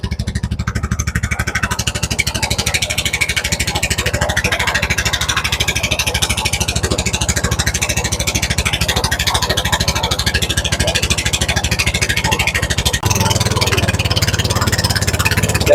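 A vehicle's engine roars loudly and continuously while it fords a river between bushes, holding a rough, steady drone with a slight change in tone near the end.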